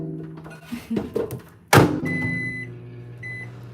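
A microwave oven heating a plate of food with a little water on it, a loud door thunk followed by a steady hum and a couple of short beeps, close by and with no talk.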